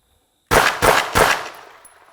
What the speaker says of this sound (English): Now you can see I hit 3 shots right in the same spot, fairly accurate in the pelvic area.